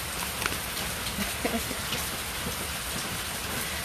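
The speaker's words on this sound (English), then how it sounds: "this rain is really loud" Heavy rain pours down steadily, a dense broadband wash with scattered louder drops and patters close by, continuous for the whole stretch with no voices.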